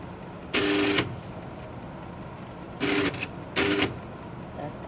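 Autosampler on an Agilent 7820 gas chromatograph washing its syringe, heard as three short buzzing mechanical bursts of about half a second each, close and fairly loud over a steady background hum.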